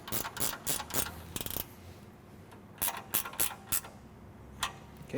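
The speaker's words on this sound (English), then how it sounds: "I'm going to grab a 13. I'm going to tighten up" A 13 mm wrench tightens the base mount bolt of a steel front bumper on a 2016+ Toyota Tacoma. Quick, close metallic ratcheting clicks come in short bursts, with a quieter pause in the middle.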